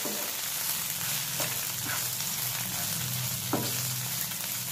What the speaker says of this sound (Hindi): अब डालेंगे नारियल और इसे भी अच्छे से भूनना है।